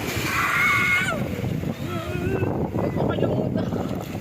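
Sea waves slosh and splash against a small tour boat off Dingalan, Aurora: continuous loud water and hull noise close by, with people talking and calling out over it.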